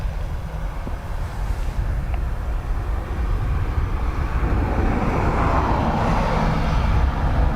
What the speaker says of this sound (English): Aer Lingus off to Zurich